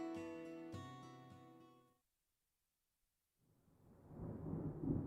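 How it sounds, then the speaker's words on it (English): Thunder snow rumbles in the video game Deadly Premonition 2, a low, swelling roar that builds from silence and grows loud toward the end, after a short tonal musical passage fades out. "And that sound. Thunder snow is coming."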